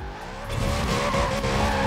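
In the Forza Horizon 4 video game, a Lexus RC F with a 5.0 V8 and a body kit slides sideways, its tires squealing over a steady engine drone that swells slightly halfway through.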